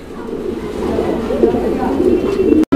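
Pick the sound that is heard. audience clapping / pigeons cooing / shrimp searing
pigeons cooing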